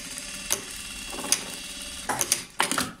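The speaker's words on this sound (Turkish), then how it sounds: "Şu şekilde lastiğimi ileri geri dikiyorum ki eteğimin belinde kopmasın diye." Sewing machine stitching elastic back and forth along a skirt waistband, short bursts of rapid mechanical whirring separated by brief pauses over a low background.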